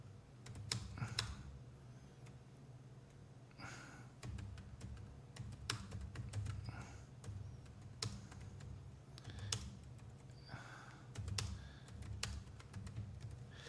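Typing on a computer keyboard: close, irregular bursts of light key clicks with short pauses between flurries, no voices.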